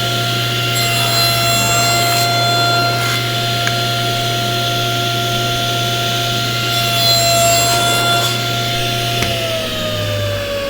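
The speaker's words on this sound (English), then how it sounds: "I'm going to take my saw sled and I'm going to cut my 45-degree strips into squares" A saw sled cuts 45-degree wood strips into squares, giving a steady, loud saw whine with a low hum and brief rising passes of cutting, all without talk.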